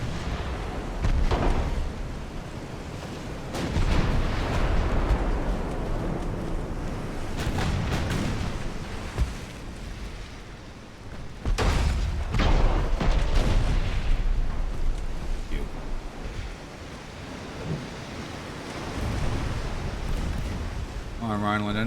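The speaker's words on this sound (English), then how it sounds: "That was a magazine explosion." A warship's ammunition magazine detonates in the naval battle game Ultimate Admiral: Dreadnoughts, producing heavy rumbling booms and rolling blasts in two long surges, with players talking over the noise.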